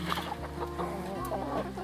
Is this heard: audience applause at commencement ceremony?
no